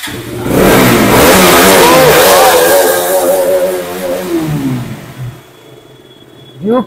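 A KTM Duke 200 motorcycle engine revs hard, climbing and falling through several loud, close throttle swells before settling toward idle, then gives one short final blip.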